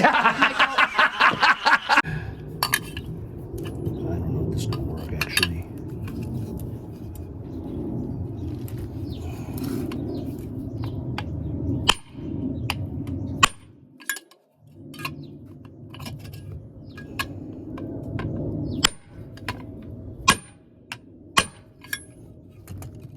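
Metal parts of a free curbside Craftsman pressure washer under carburetor repair are banged with a big socket, giving a series of sharp, irregular clinks and knocks over low background rumble, with brief snickering laughter near the start.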